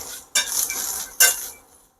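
Fresh pigeon pea beans and green chilies being roasted in a pan, two brief scraping stirs with a light sizzle, close and clear with no voices.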